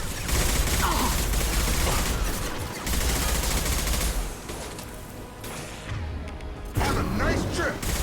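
Heavy gunfire from a Mass Effect battle, dense sustained bursts with booming low thuds running almost nonstop at close range, while voices speak over the shooting.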